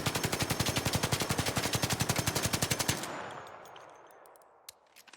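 Rapid automatic gunfire from a weapon fitted with a Muzzle Brake 2 in the video game ARC Raiders, a steady burst of about three seconds of evenly spaced shots, then a fading tail and a couple of faint clicks.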